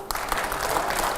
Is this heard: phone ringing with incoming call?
no